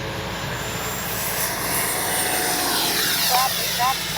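A Freewing 80mm JL-8 RC jet makes a speed run overhead, a continuous airy ducted-fan whine at moderate distance, with a person talking over it.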